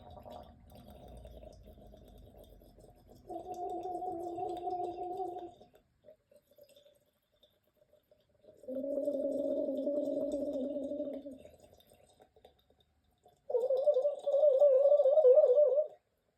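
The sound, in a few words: gargling vocal warm-up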